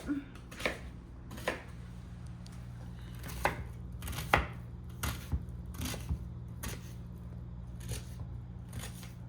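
A knife chops onions on a cutting board in irregular bursts of crisp taps, close and fairly quiet over a low steady hum.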